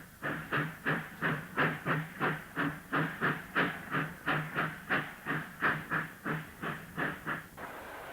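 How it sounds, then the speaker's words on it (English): A steam locomotive pushes empty coal wagons up a steep grade toward exchange sidings, its exhaust beating in a steady, rapid rhythm of sharp chuffs over about eight seconds, moderately distant, with no voices. "She prepares to push coal empties to the exchange sidings about a mile away and steeply graded."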